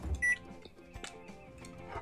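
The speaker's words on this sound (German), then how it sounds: "Das heißt, ich mache einen in die Mikrowelle," A microwave oven in a kebab shop kitchen, with a schnitzel going inside, gives one short high beep near the start, followed by light kitchen clatter and background noise.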